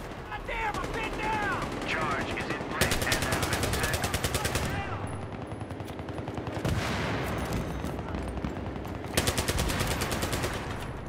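Rapid automatic gunfire in the Battlefield 3 Rush match on Operation Metro, loud bursts of dense shots with sharp broadband cracks repeating through the scene, mixed with other battle noise and someone talking over it.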